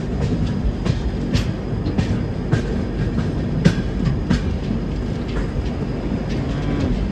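Prasanthi Express train rolling through a curve near a junction, a steady loud rumble of wheels on rails with repeated clicking joints and occasional sharp clacks, heard alone without voices.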